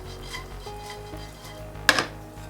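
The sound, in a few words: stirring sliced almonds while toasting in a pan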